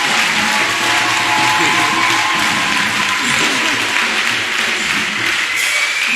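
An audience applauds steadily and loudly at a church gathering, dense continuous clapping filling the whole stretch without break.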